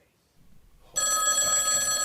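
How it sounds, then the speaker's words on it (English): A telephone bell ringing loudly and steadily, starting abruptly after a near-silent moment with faint low rumble, in a horror slasher movie scene. "Oh, wait, I hear the phone."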